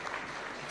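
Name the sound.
round of applause for an award winner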